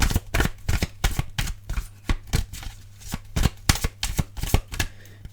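Tarot cards are shuffled in quick repeated riffles, each a crisp, close burst of flapping card edges in a steady rhythm, with no talking over them.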